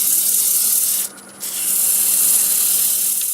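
A steady, hissing scrape of 400-grit sandpaper rubbing against turned wood, close up, with one short pause before the stroke resumes.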